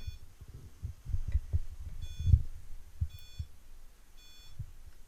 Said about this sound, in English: It's like a timer.